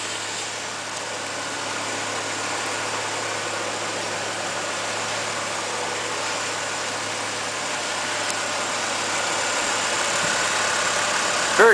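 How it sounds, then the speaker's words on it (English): A 2010 Chevy Colorado LT pickup idles quietly with a low, steady hum and faint rumble heard close, unchanging for the whole stretch. "Very quiet sounding truck."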